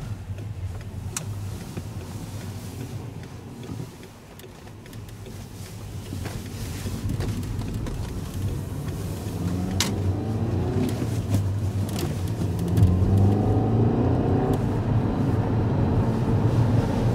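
A car with a manual transmission drives along, its engine a steady low rumble that slowly builds while accelerating, with road and wind noise and no talking.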